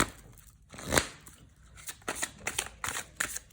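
Tarot cards being shuffled by hand, with quiet soft riffles and flicks in several short bursts, close and faint, and no talking.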